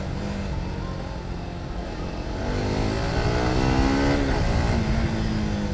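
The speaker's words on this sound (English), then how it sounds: "I am revving the shit out of my bike for your viewing pleasure" A motorcycle engine revved hard outdoors, climbing from a steady idle rumble into sustained high revs with rising pitch, loud and close with no talk over it.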